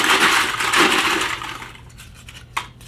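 Paper slips tumble and rustle inside a plastic TBR bucket as it is shaken, a loud papery swishing for about a second and a half that fades, ending in a brief tap.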